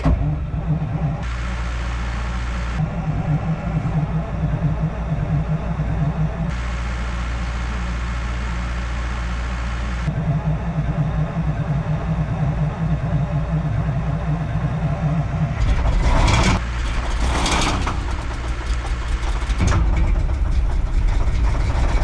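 A cold Caterpillar dump truck engine being started with ether. It cranks in repeated long bursts with pauses between them, then catches with loud rough surging roars near the end.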